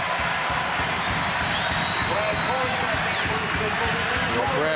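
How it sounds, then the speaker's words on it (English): Dense basketball arena crowd noise from an SIU versus Creighton college game, a steady roar of cheering and shouting filling the whole stretch, with a commentator talking over it. "Hear the crowd there."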